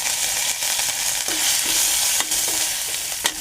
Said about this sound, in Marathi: तर आता इथे मी पेस्ट टाकतो, लसूण पेस्ट थोडीशी परतून घेऊया आपण. आणि लगेच कांदा टाकूया.